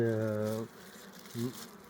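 Honeybees buzz at a hive being fed syrup, with a short droning burst followed after a pause by a second brief buzz, close and moderately loud.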